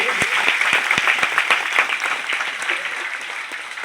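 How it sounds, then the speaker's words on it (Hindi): Loud applause from a seminar audience, dense clapping throughout with a few sharper individual claps standing out, the crowd sustaining it steadily before it gradually thins. "एक जोरदार ताली बजाइए मेरे स्पॉन्सर के लिए।"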